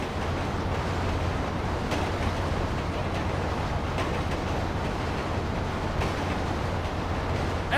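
A train runs through Grand Theft Auto 5 with a steady, loud rumble of wheels and wagons on the rails, broad and unbroken, with no voices over it.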